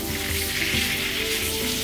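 Pork fat sizzling and frying steadily on a hot saj pan, a dense, even crackle with no pauses, close and loud.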